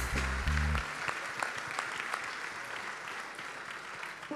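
Church congregation applauding, a steady sustained wash of clapping from a large crowd filling a reverberant hall, with a brief low tone at the start.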